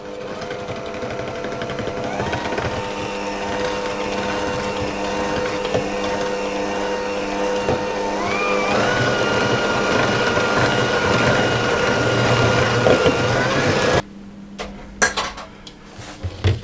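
An electric mixer whirs steadily as egg yolks are beaten into a fluffy batter for a Torta Caprese, a loud continuous motor drone with a slight rise in pitch midway, then the mixer stops and a few clinks and clatters of the bowl follow.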